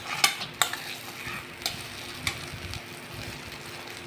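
A Maggi omelette fries gently in a pan, with a soft continuous sizzle broken by a few sharp clicks of a spatula against the pan, quiet and close.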